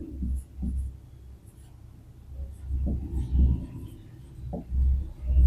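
Handwriting on paper while working a math problem: soft, close scratching pen strokes in uneven bursts with brief pauses, fairly quiet, with light background murmur.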